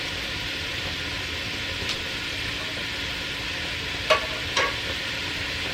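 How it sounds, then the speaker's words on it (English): Onions fry in a pan, giving a steady, soft sizzling hiss that fills the background. A few brief clicks of a utensil sound near the end, and no one speaks. "I'm gonna pop in my onions"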